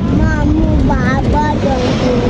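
A steady, low boat engine rumbles throughout on a lake in Pokhara, with muffled voices talking over it.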